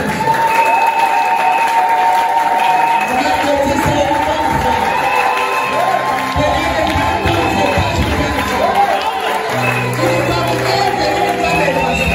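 A church congregation applauds and cheers steadily throughout, with shouts and whoops rising over the dense clapping and a few sustained voices mixed in.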